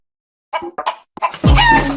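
A chicken gives a few short, abrupt clucks in a TV advertisement, followed by a loud swelling burst of sound, all close and punchy after a moment of silence.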